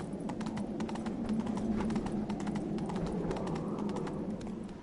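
Geralt's horse Roach trots in The Witcher 3, its hoofbeats a steady, quick clip-clop that continues without a break through the whole stretch, fairly soft and with no voices.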